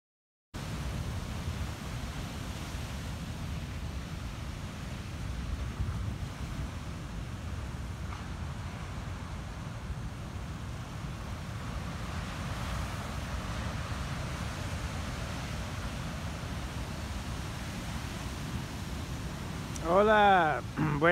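Pacific Ocean surf rolls in along a Baja California beach campsite, a steady distant wash of waves under light wind, with a brief rustle of handling near the end.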